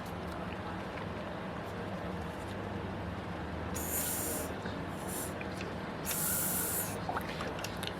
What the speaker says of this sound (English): I shouldn't be able to blow any air through there at all.